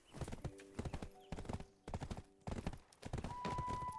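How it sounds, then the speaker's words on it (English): A horse mount in the video game Black Desert Online gallops with quick, rhythmic clip-clop hoofbeats in repeated bursts, fairly close and faint overall, with a steady tone entering near the end. "this horse turns slow"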